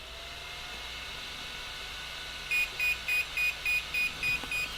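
A series of eight evenly spaced electronic beeps, high and clean, sounds over a faint background hiss, starting partway through: calibration beeps from a Hobbywing Max6 RC car ESC.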